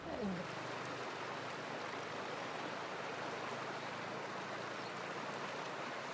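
Sonyiro River flowing past a milkweed-lined bank, a steady broadband wash of running water that holds evenly throughout, close and continuous with no talk over it.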